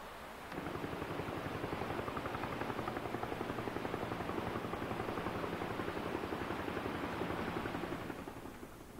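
A steady, loud rotor chop of an Army National Guard helicopter flying overhead on a flood search, rhythmic thudding that holds constant for several seconds before easing off at the end.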